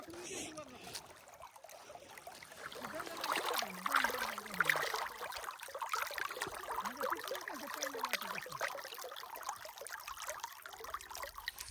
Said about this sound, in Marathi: हे बघा मित्रांनो असं हळूहळू पाणी चाललंय.